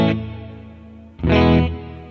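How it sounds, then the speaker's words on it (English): Plate reverb from an Alexander Space Force pedal colors a guitar: a decaying tail from one struck chord, then a second loud chord around the middle that swells and rings out into a broad wash, with no voices. "we get a bigger sounding plate reverb"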